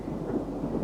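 Low, rolling thunder rumbles through a rainstorm at a homestead, a brief deep grumble with a steady rain-like hiss.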